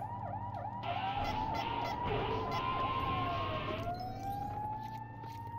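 A police car siren in the Lego City Undercover video game wails loudly and continuously, rising and falling over a low engine rumble during a pursuit.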